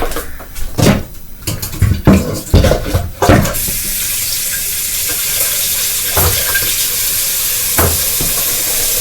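A kitchen tap starts running after some stirring and clatter, then settles into a steady, broad rush of water that continues evenly to the end, with a few faint knocks beneath it.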